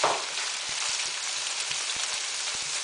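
Raw chicken hitting a hot pan, a broad, steady sizzle like rain on a surface, fairly close, with faint light clicks scattered through it and no talking.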